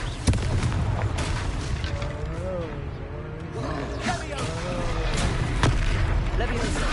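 Fiery blasts from the Confringo spell in a video game, several muffled booms going off under steady game noise while a voice speaks over the action.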